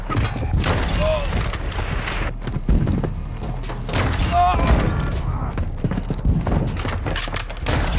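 Sharp, scattered gunshot bursts from a shooter video game crackle under intermittent talk from a player, with booming impacts repeating across the stretch.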